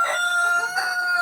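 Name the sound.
chicken clucking and crowing in backyard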